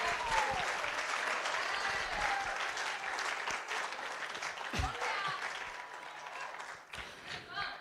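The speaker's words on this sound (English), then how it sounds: "Give Moses a round of applause." A group at a lifeguard staff training session gives a sustained round of applause, a dense, steady clatter of many hands, with voices talking underneath and a cheer near the end.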